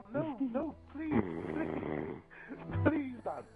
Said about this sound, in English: Keep the snoring going.